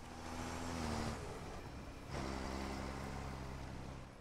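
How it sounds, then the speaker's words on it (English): Vehicle engine in the Squad Ops video game, loud and close, revving with audible gear shifts as it pulls away and accelerates. "Let's drive the vehicle away."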